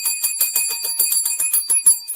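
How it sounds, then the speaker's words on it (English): A small bell rings in rapid repeated strikes, bright and close, sounding alone for about two seconds. "Ringing that bell."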